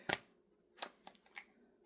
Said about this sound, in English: I'm just going to shuffle it.